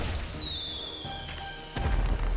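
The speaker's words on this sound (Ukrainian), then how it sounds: "давайте спробуємо ще трішки попускати ці феєрверки" Fireworks launched over a snowy city in the video game GTA Online: a long descending whistle glides down, followed by a sudden low burst near the end, with no talk.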